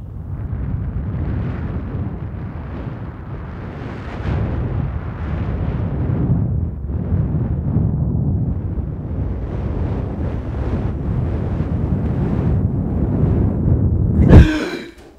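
Breath blown gently across a shotgun microphone diaphragm to mimic the roaring wind of a fire, a continuous rumbling whoosh that swells and fades, close and loud, ending in a sharp burst.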